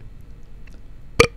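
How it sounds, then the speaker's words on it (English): One short, sharp burp-like vocal gulp erupts suddenly near the end of an otherwise quiet moment, loud and close. "That was a fear burp."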